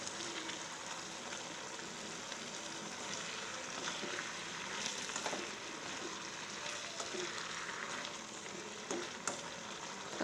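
Squid frying in sambal sauce with onions, a soft, continuous sizzle and bubbling heard close up throughout, with a faint clatter now and then.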